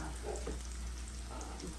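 A pot of water on a stovetop starts to boil with a steady, soft bubbling and hissing wash, faint and continuous, with no talking.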